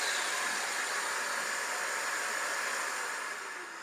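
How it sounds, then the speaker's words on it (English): A steady high-pitched vacuum motor hiss from a workshop dust extractor with a delayed switch-off runs on alone for a few seconds after being turned off, then begins to fade slightly as it winds down. "The noise you hear after I switched off is the vacuum cleaner has a delay to switch off"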